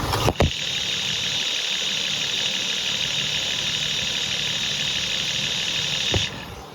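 A 3.2-liter V6 in an Acura TL auction car, with leaking valve covers and the dipstick out, runs steadily at idle, a constant close engine drone with a brief clunk near the start and another near the end.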